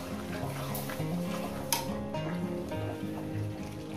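Chicken curry with tomato stirred and fried in a pan, a soft continuous sizzle with light scraping and clinks of a spoon against the pan, one sharper knock midway.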